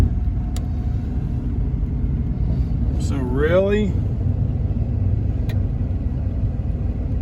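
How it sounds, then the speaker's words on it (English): Low steady rumble of a generator running inside a 1990 Chevy G20 camper van, with air conditioning on, continuous and fairly loud throughout, while someone speaks briefly partway through. "Let's start the generator up."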